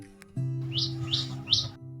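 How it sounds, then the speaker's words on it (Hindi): A cartoon bird in an animated Hindi children's story gives three bright, evenly spaced chirps. They sound close and clear over a steady background music drone, with no speech. "चिड़िया बोली"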